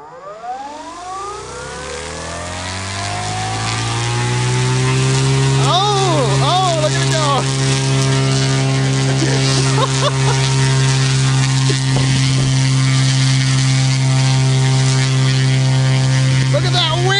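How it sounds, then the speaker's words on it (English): A DC brushless motor driven at about 40 volts under load spins up: a rising, siren-like whine climbs over several seconds, then settles into a loud, steady multi-tone hum, with gusty, rushing wind noise and brief wavering tones layered over it. "We got the motor started up."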